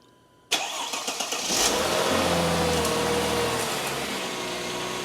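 A car engine cranks briefly, catches, and revs before settling into a loud, steady idle close by, during a power drain of fluid from a 722.6 5-speed automatic transmission.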